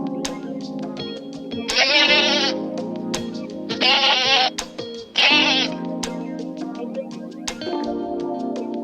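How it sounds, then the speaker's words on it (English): A goat gives three loud, close, wavering bleats separated by short pauses, set against a soft, steady musical background. "It's a goat."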